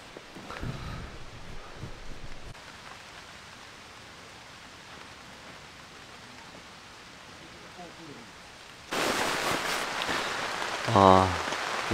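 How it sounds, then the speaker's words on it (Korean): Heavy rain and strong wind at a forest campsite under a tarp, a soft steady patter of rain that swells louder near the end as gusts and rustling rise, with a brief voice late on. "비도 엄청 많이 내리기 시작하네요."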